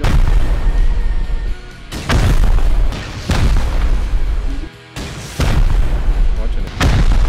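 Rocket explosions from a raid in the video game Rust, with several loud, booming blasts arriving at intervals of roughly one to two seconds over a dense rumbling background, and bits of muffled game noise in between.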